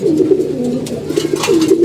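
Several pigeons coo steadily inside their loft, overlapping low throaty calls continuing throughout, close and fairly loud with no talking.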